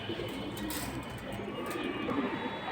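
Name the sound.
pigeons cooing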